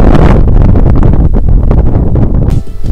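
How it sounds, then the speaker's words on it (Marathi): Strong wind roars across the microphone at the Bhramagiri Hills viewpoint in Coorg, a loud, constant buffeting rush with gusts that briefly ease near the end. "हवेचा आवाज येत असेल तर माफ करा"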